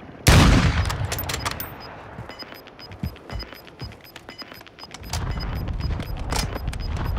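Gunfire in Warzone 2.0 opens with a loud, close boom, followed by scattered single shots, distant reports and a heavier burst of rapid fire near the end, with no talk over it.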